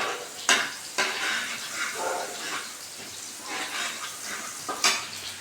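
Hill garlic fries in a hot pan while being stirred, a soft sizzle broken by a few sharp scrapes and clinks of a utensil against the pan, close and moderately quiet, no talk.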